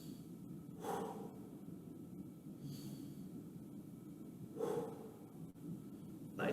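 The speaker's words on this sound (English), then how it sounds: "Two more deep breaths with me now." Slow, deep breaths during a stretching workout: two audible inhale-exhale cycles, a few seconds apart, close and soft against a quiet room, with no speech.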